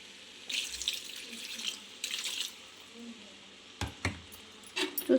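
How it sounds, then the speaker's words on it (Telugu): Water runs into a pan of village-style chicken curry in short bursts, with metal clinks and knocks of utensils against the pan and occasional brief speech. "ఇప్పుడైతే కాస్త నీళ్ళు అయితే వేసుకుందాము."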